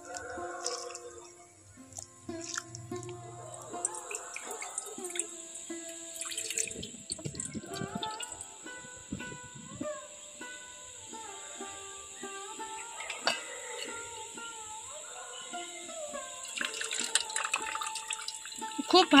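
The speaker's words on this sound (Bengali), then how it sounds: "2 থেকে 3 বার খুব ভালো করেই আমি জলের মধ্যে এই সাবুদানাটা পরিষ্কার করে নেব।" Sabudana (tapioca pearls) washed by hand in a bowl of water, with soft sloshing, trickling and dripping sounds and a few clinks, heard close and fairly quiet under a voice speaking throughout.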